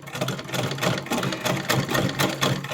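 A sewing machine stitches a small cloth outfit for a Kanha idol, its rapid rhythmic chatter running steadily and close up, with brief pauses as the fabric is guided.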